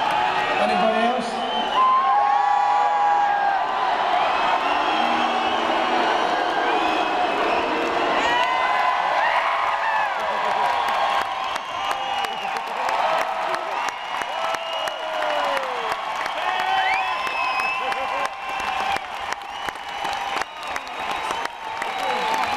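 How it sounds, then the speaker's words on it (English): A large arena crowd at a live concert at the M.E.N Arena cheers continuously, with whoops, shouts and whistles rising out of a dense roar. "Cheering because I look like a wanker."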